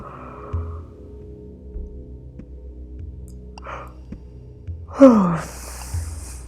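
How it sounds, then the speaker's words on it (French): A single drawn-out, breathy yawn from a meditation guide during a calm breathing exercise. It rises and then falls in pitch near the end, close to the microphone, over a quiet low hum. "je bâille bien de mon côté"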